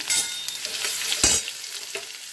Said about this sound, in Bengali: এবার কড়াইয়ে তেল গরম হয়ে গেছে, কালো জিরে শুকনো লঙ্কা ফোড়ন দিলাম, দিয়ে এবারে একটু এই যে রসুন কুচি দিয়ে দিলাম